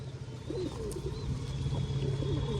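A pet pigeon named Rocky coos softly on a rooftop terrace, a few low, rolling calls set against a steady background hum.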